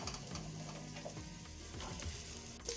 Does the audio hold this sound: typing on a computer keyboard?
no